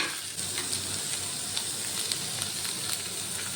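Green beans with grated ginger and a few garlic cloves are stirred in a hot pan, giving a steady, close frying sizzle with scattered light scraping ticks throughout.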